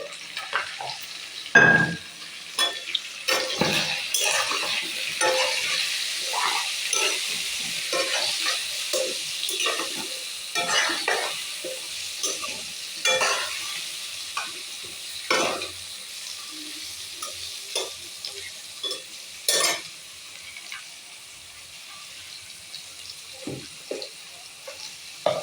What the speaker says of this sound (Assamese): এয়া মাংস ভাজা হ'ল প্ৰায় হ'লে